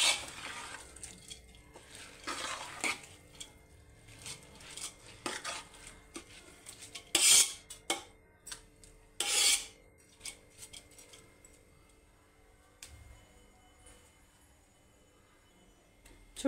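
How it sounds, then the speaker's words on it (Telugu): Already-cooked rice for bagara rice being stirred in hot oil in a pan, with a spoon scraping and clinking against the metal in irregular bursts. The frying sound stays fairly soft, and no one speaks. "ఈ రైస్ని ఈ ఆయిల్లో కొద్దిసేపు వేగనిద్దామండి."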